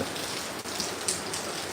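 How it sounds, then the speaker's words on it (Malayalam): Heavy monsoon rain pours down steadily in Kozhikode, a dense, even hiss of drops on surfaces with no pause throughout. "മഴയോ മഴ മഴ സൂപ്പർ മഴയാണ്"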